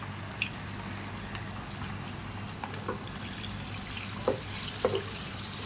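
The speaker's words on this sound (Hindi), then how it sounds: "गरम ऑयल के अंदर आपको अच्छे से, ये देखिए इस तरीके से फ्राई कर लेना है।" Spiral-cut potato frying in hot oil, a steady low sizzle and bubbling with a few sharper crackles and pops near the end, no voices.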